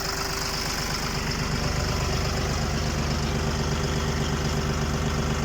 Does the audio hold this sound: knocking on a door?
no